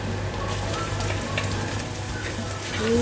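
Garlic and onion sauté in oil at the start of a Bicol-style ginataang laing, giving a steady, moderate sizzle with faint crackle throughout and a brief voice-like tone near the end.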